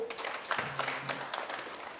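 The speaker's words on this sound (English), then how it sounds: "Ladies and gentlemen, let's give a big applause for." Guests at a World Tourism Day ceremony applaud a provincial governor, a short stretch of moderate clapping under a brief tone and faint background sounds.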